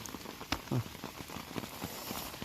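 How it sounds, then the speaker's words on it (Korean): Heavy summer rain falls steadily in a chestnut grove, a soft continuous patter with scattered louder drop impacts, fairly quiet and close. "오늘이 8월 30일 아주 비가 많이 오는데"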